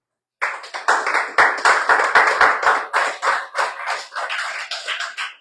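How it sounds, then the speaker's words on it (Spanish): A church congregation breaks into applause for the Lord, dense clapping starting abruptly after a short silence and continuing steadily, close and loud with no talk. "¿Quién le da un aplauso al Señor?"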